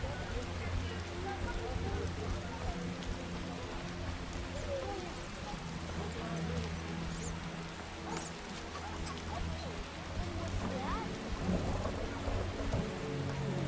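Heavy rain and thunder in a medieval city street in The Witcher video game, a continuous dense rain wash with low thunder rumbles and sustained droning ambient tones underneath.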